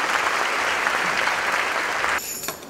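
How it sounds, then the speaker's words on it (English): Audience applause for volunteers at a live business event, a thick and even roar of many hands clapping that stops abruptly near the end and leaves a faint room tail. "Give these guys a round of applause."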